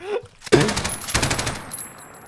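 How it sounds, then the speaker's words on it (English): A light machine gun fires in a video game, a rapid burst of sharp, loud shots after a brief gap, with the rattling reports close and dense before fading into a ringing tail. "Dude, this is the best LMG ever."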